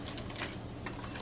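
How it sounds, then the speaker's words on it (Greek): Spoon stirring clove and cinnamon into the mix for Greek must cookies made with grape molasses, a quick series of soft close scrapes and taps over about a second. "Ανακατεύουμε."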